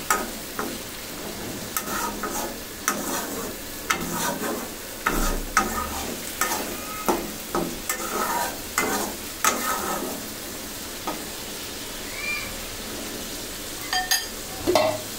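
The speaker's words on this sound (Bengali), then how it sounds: "এখন কচুটাকে নেড়ে চেড়ে মিশিয়ে ভালো মতন কষিয়ে নিতে হবে।" Taro and shrimp fry in spices as a spoon stirs and scrapes the pan, a soft continuous sizzle punctuated by irregular clacks and scrapes over about fifteen seconds, with no voice.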